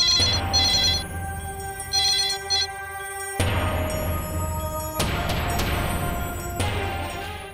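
A landline telephone rings indoors in repeated electronic bursts, loud and close, with sharp thuds in between.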